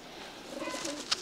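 Racing pigeons in heavy moult coo softly in a loft, low burbling calls under a faint hiss, with a brief sharp click near the end.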